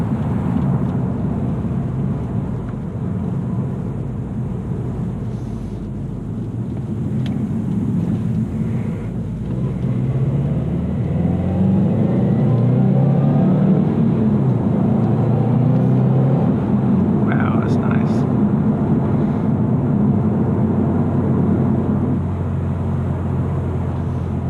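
A car drives along a road, its engine holding a steady low rumble that swells as it revs harder partway through, with road and wind noise underneath and no talking.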